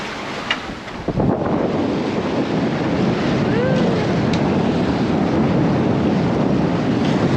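Sailboat with a hand-steered sail moving quickly through wind and waves, a continuous loud wash of rushing water and buffeting wind against the microphone with no break.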